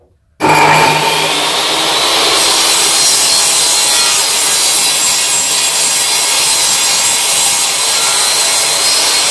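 Table saw cutting through a wooden workpiece for a homemade crosscut sled with fence and extension, a loud steady whining rip that starts abruptly and runs unbroken to the end, alone with no talk.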